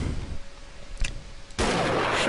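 A rifle shot in the hunting game Treibjagd 3D: a single sharp crack about midway, followed by a loud burst of noisy rumble that continues to the end, with no talk.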